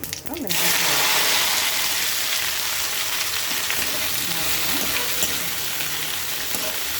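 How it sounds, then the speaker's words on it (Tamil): Cumin seeds sizzle and crackle in hot oil in a kadai, a loud steady frying hiss that starts abruptly and carries on alone, with a few faint pops. "கடாயில் எண்ணெய் ஊற்றியாச்சு. கொஞ்சோல ஜீரகம், வேறு எதுவுமே இல்லை."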